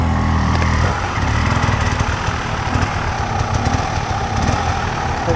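A hard enduro motorcycle engine runs steadily on rough rocky ground in Rudozem, a loud continuous close-up drone with uneven throttle pulses throughout.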